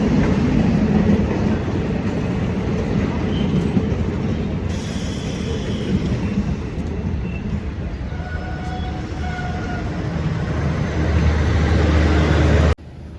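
A crowded passenger train on the line to Baramulla in Kashmir, a loud continuous rumble of wheels and carriage noise throughout, heard from on board, ending with an abrupt drop.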